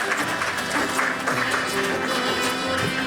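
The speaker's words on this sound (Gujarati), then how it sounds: "નિસર્ગને એકવાર જોરદાર તાળીઓથી વધાવીએ" An audience claps for the speaker Nisarg at a school lecture hall event, a steady wash of applause that holds at an even level from start to finish.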